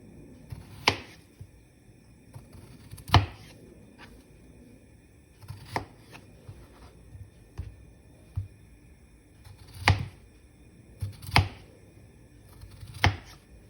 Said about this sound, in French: je vais prendre une planche à découper et je vais les couper en tranches d'environ 2 cm